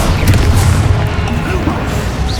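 Spell explosions from Expulso and Confringo blasts in the video game Hogwarts Legacy, a dense, continuous booming rumble with crashing impacts packed together for a couple of seconds, loud and close, with no clear pauses between bursts.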